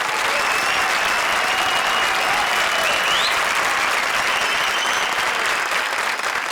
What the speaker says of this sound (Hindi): हमारी चारों शायराना जोड़ियों के लिए एक बार जोरदार तालियां